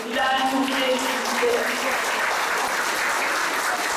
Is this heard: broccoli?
no